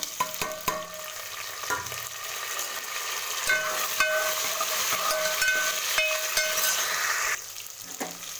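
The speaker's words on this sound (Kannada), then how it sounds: "ಒಗ್ಗರಣೆ ಇವಾಗ ಬೇಯಿಸಿ" Dry red chillies crackling and sizzling in hot oil for a tempering (oggarane), with a continuous hiss, sharp pops and a few stirring clicks close to the pan, no voices.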